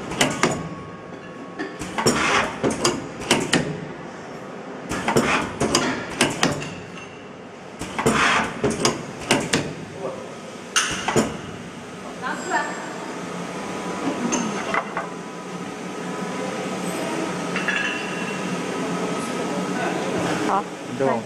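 A brass nut plastic welding machine starts up and runs with a steady humming drone and faint tonal whine, preceded by clunks and handling noises, while people talk nearby.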